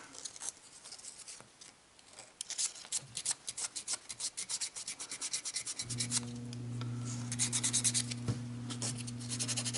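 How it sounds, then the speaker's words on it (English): Sandpaper rubs briskly back and forth over dried Gorilla glue, a close, steady rhythmic scratching that later sits over a low continuous hum. "It takes a lot of sandpaper to remove it."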